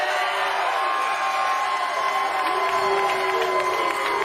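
Crowd cheering at a PBA professional bowling event in Indiana, a steady roar of shouts and whoops filling the hall, loud and continuous, with a faint voice over it.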